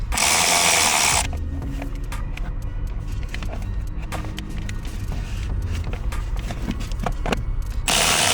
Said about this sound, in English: We're gonna tighten this. This is 8 bolts.